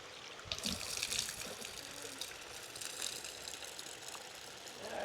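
Rice being washed in water by hand for sweet corn rice with saltfish and okra, a soft steady sloshing and trickling with occasional splashes, close and fairly quiet, no talking.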